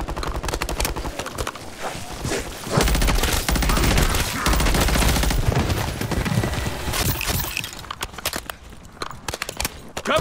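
Gunfire in the video game Modern Warfare 3 comes as dense, rapid automatic bursts and overlapping shots, loud and close, with some quieter scattered shots near the end.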